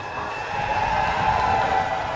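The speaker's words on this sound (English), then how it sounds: "listen to that crowd" Crowd noise at a SoCal Pro wrestling show as the heavyweight champion walks to the ring: a steady, far-off roar and cheering from the arena audience, holding even and swelling a little midway.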